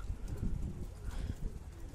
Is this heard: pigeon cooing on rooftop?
yes